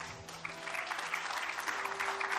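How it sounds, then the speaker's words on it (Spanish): A church congregation applauding together at an evening service, a steady wash of clapping filling the room evenly from start to finish with no voices standing out. "Dele un aplauso a Dios."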